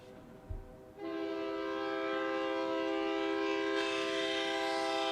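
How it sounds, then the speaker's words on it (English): A truck-mounted train horn played back from a recording blasts a loud, sustained multi-tone chord after a brief thump, holding steady and brightening partway through. "This guy has a train horn set up on the top of his truck."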